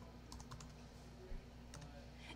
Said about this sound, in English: I'm going to type in rainbow.